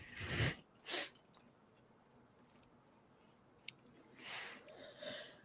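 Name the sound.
a sneeze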